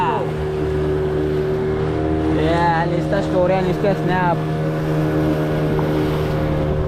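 A motorboat on a ride off Goa drones with a steady low engine hum throughout, close and loud, while people talk over it.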